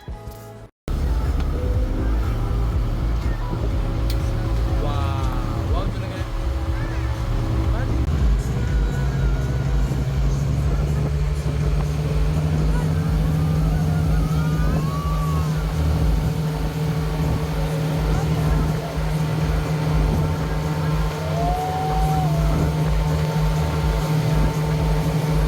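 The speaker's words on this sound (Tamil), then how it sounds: "இந்த ஸ்பீட் போட் கிளம்பிடுச்சு." A speedboat setting off for parasailing at Maafushi in the Maldives: a loud, steady engine drone that deepens and strengthens partway through, with a person talking over it.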